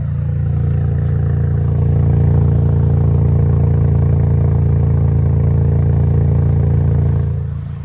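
A Toyota Land Cruiser Prado 250 engine runs with a steady, loud, deep drone and a slight clatter, holding evenly close by for several seconds before easing off at the end.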